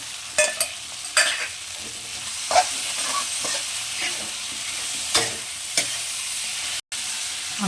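Raw garlic is stirred in a pan with already fried garlic, giving a soft sizzle with repeated scraping strokes of a spatula at an irregular pace, close and without talk.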